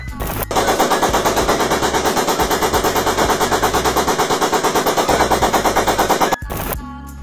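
X-Shot Chaos Meteor toy blaster firing a long rapid burst of mechanical shots, loud and close, in a fast even rattle that stops abruptly, followed by a brief whir.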